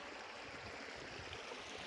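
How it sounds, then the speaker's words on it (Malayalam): A river stream at a fishing spot flows with a soft, continuous rushing wash, faint and steady with no other sounds over it. "ഇതാണ് നമ്മുടെ ആറ്."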